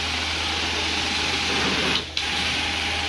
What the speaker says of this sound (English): this new machine, to put it easily, the suction on it is stronger than the other one